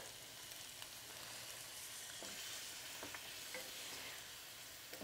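Steady stirring and scraping of spices off the bottom of a pot of chicken chickpea curry over a constant bubbling sizzle, with occasional soft clinks of a utensil against the bottom.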